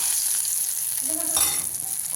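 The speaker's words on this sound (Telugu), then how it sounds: "కడాయి పెట్టుకొని ఆవాలు, జీలకర్ర, ఎల్లిపాయలు, ఎండుమిరపకాయలు వేసినండి." Mustard seeds, cumin, garlic, dried red chillies and lentils crackle and sizzle in hot oil in a kadai, a constant frying hiss with a brief scrape partway through.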